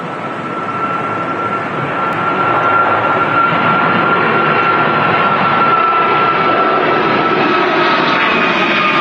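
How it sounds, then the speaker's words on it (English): An Airbus A321neo jet at Manchester Airport roars steadily down the runway on takeoff, a loud, continuous engine rumble with a thin whine running through it, and no talking. "lining up on the runway, though, ready to go. Heading out to Muscat is the awesome A321neo that we just saw taxi out"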